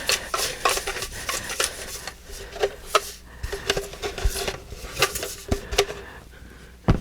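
Paper giveaway entries are shaken in a container, making a steady rustling and clattering with sharp knocks and taps. The sound is fairly close and continuous, with no talking.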